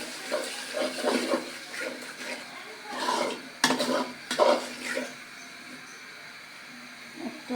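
A spoon stirs salt, turmeric and ground dried chilli in a cooking pot, giving irregular scrapes and soft metallic clinks close by, with no talk.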